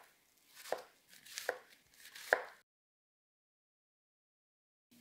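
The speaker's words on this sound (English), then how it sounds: "Just listen to the sound when cutting a white onion on this 20 millimeter board." A knife chops a white onion on a 20 mm Asahi cutting board: three crisp, close chops at a steady rhythm, followed by silence.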